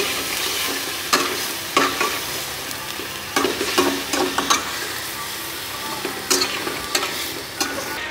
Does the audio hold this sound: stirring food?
yes